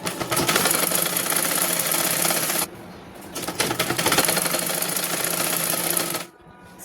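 Electric sewing machine stitching a simple blouse, running in a fast steady whirring rattle close up, pausing briefly, then resuming before stopping near the end.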